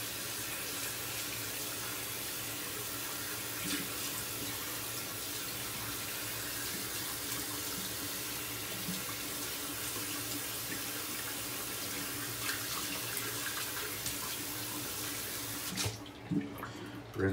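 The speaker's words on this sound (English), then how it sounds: "Rinse that off." Tap water runs in a steady, continuous stream while a razor is rinsed under it at a sink, close and fairly quiet. The flow cuts off abruptly near the end.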